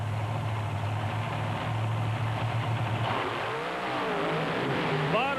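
The WCW Stinger monster truck races down the track at a drag event, its engine a loud, continuous roar that shifts into rising and falling revs toward the end.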